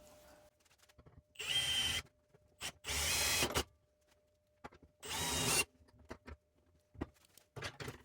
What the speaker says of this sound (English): now I'm going to drill, like I said, just a couple of holes so that I can align this